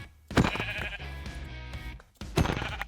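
Two Minecraft sheep bleats, one near the start and another near the end, fairly loud and close, with a quieter stretch between them and no talking.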